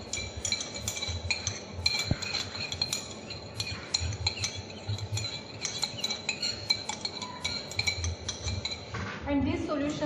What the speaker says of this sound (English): Stir with the help of glass rod.